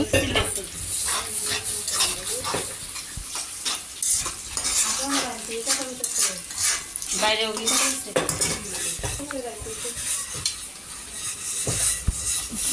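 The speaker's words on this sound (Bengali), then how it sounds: "পেঁয়াজটা ভাজা হচ্ছে" Onions fry in a pan while being stirred, with frequent metal spatula scrapes and clinks against the pan over a continuous sizzle, busy and close throughout.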